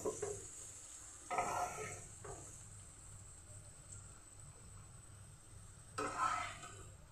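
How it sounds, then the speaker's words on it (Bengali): Vegetables such as capsicum, beans and cauliflower fry with a steady soft sizzle in a pan for a rainy-day pulao, broken by a few bursts of stirring scrapes near the start and end. "সবগুলি আমি ভাজা করে নেব"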